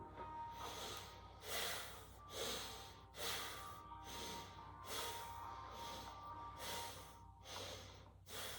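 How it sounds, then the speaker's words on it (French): Intense rhythmic breathing driven from the navel during a yoga kriya, with forceful breaths in a steady repeating pattern of about one per second, close and loud against a quiet room. "Respiration intense avec le nombril."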